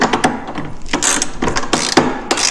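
A ratchet clicks in quick bursts as bolts are tightened on a Polaris RMK snowmobile front bumper, loud and close, with short pauses between runs of clicks.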